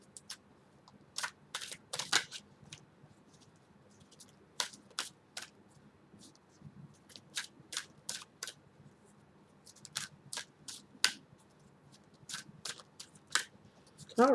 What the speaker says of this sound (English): So I'm going to shuffle these up for you really good.